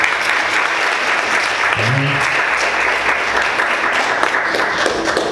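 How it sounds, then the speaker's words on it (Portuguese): A church congregation applauds Jesus during a service, dense sustained clapping filling the room, with a brief low voice heard partway through. "Vamos aplaudir Jesus."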